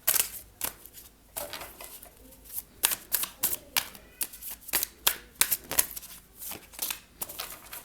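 Tarot cards being shuffled by hand: a quick, uneven run of crisp riffling snaps and flicks, close up and fairly quiet, with no talk over it.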